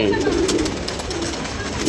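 Pigeons coo steadily in a loft, a continuous close murmur of soft, throaty calls with no pauses over a hushed background.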